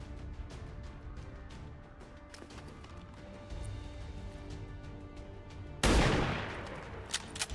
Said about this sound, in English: Fire sniper rifle.